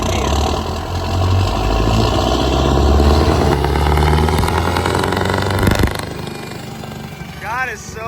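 Scania truck with upgraded turbo and injectors and a very long exhaust pipe, revving loud and close in sustained rising pulls, then dropping off as a voice speaks briefly near the end.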